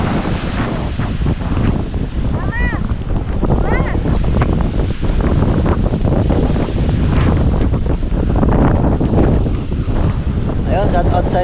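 Strong typhoon wind and big waves at sea roar loudly and continuously, with heavy wind buffeting the microphone and a boat engine faintly beneath; brief voices come through now and then.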